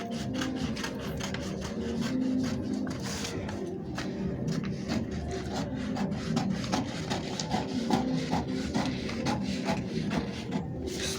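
Scissors cut a fabric yoke pattern piece for a gathered underbust corset dress, giving a close, continuous crunchy snipping and rustling of cloth with quick repeated cuts.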